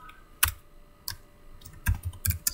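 A computer keyboard tapped at close range as a file name is typed, a handful of sparse, irregular key clicks with a faster burst near the end, no talking.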